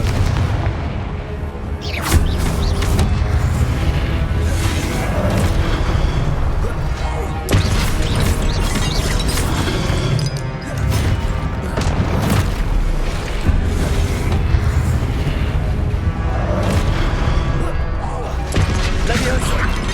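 Confringo fire-spell blasts in Hogwarts Legacy, heard as repeated loud booms and crashing impacts throughout a busy combat mix, with a voice chanting spell names over them.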